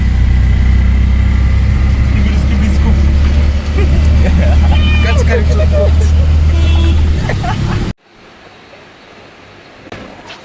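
Interior of an auto rickshaw ride, its engine droning loud and steady under continuous talk for about eight seconds before cutting to a quieter scene with faint background noise.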